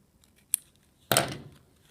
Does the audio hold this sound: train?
no